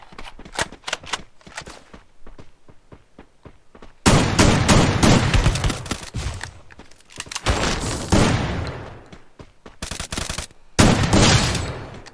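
Heavy gunfire rings out in a video game shootout, including shotgun fire, as loud, dense bursts of rapid shots separated by short quiet gaps, with a lighter sequence of individual shots at the start.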